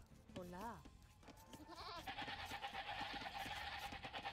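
Goats bleat in the Age of Empires video game, a few wavering cries early on, followed by steady busy game ambience and effects.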